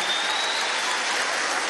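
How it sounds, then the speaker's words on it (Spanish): A crowd at a graduation ceremony applauds steadily, a dense wash of clapping held at even loudness for the whole short stretch, with no voice over it. "vamos a darle un aplauso a Lenín, Lenín Romero, constituyente."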